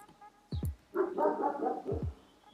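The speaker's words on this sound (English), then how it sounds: "And sorry for my dog barking." A dog barks a few times close by: sharp single barks, then a longer whining, yelping stretch, then another pair of barks.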